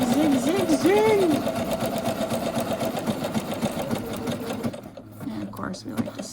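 A sewing machine stitches a zigzag seam with a fast steady mechanical whir and needle clatter. Someone talks over it, and the machine slows near the end.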